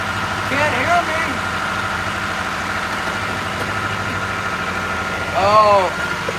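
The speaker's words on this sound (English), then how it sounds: "Well, that's my engine. That's the boat engine." The engine of a fishing boat idles in a steady low rumble throughout, heading out to coho fishing grounds in glacier waters, with a few brief tonal squeals rising above it near the start and end.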